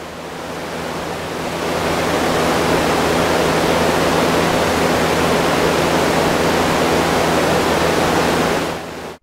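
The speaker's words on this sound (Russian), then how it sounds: "Как звучит белый шум." Broadband white noise from a homemade sample-and-hold synthesizer module, a steady loud hiss with a low hum underneath, rising slightly in level after the first two seconds and holding constant until an abrupt cutoff at the end.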